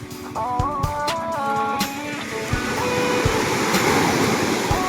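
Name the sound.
ocean waves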